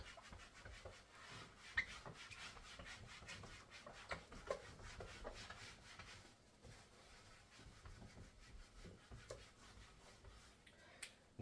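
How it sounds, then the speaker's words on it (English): A dry rag rubs across a classroom board during a calculus lesson, quiet irregular scrubbing and swishing strokes with soft taps, faint and close, no talking. "I'm just trying it with a dry rag, and this is not really erasing very well"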